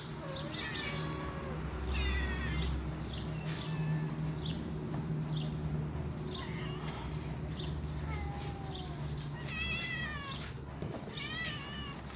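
Multiple cats meow repeatedly over a steady low hum, their cries overlapping and varying in pitch, fairly close and insistent throughout.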